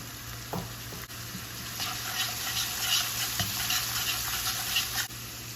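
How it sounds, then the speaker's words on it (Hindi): Onion and garlic fry in a pan, giving a steady close sizzle with a few soft stirring scrapes and clicks throughout, and no voices. "अब इसमें मैं ये प्याज डाल दूँगी। प्याज को थोड़ा सॉफ्ट करूँगी।"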